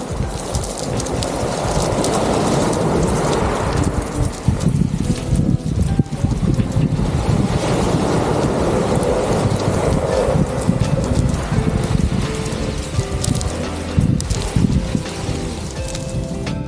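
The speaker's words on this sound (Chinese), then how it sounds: "海浪冲上石头海滩，海水退去的声音" Close, loud waves rush over a stony beach in Antarctica and pull back, with a constant churn of water and strong wind noise.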